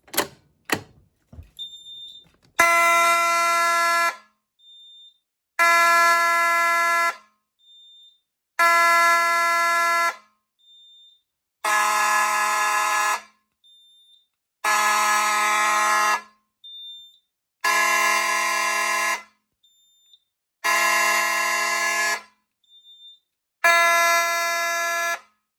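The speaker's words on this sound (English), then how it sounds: "I'm actually going to re-alarm with the 4251-20" A fire alarm system re-alarmed by a 4251-20 detector blares in a steady series of about eight long, loud electronic horn blasts separated by short silent gaps, with a soft high chirp between them, and no voices.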